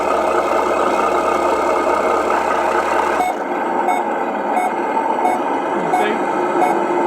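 A Tamiya Mercedes-Benz Actros radio-controlled model truck sounds steady, repeating reversing beeps over a constant electronic hum, close and fairly loud, with someone talking over part of it.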